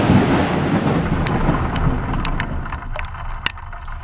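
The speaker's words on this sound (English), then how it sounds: "So yes, it did start raining pretty heavily." Heavy rain pounds a car while driving north in Utah, a dense wash of drumming with scattered sharp drop hits and crackles as the downpour eases slightly toward the end.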